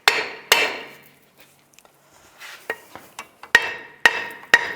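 Hammer tapping a rear brake drum off the hub on a 2002-2009 Chevrolet Trailblazer: sharp metallic knocks, close and loud, some ringing, falling in irregular bursts with lighter taps in between.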